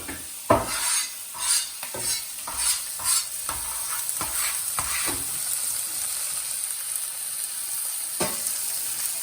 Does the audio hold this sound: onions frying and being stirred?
yes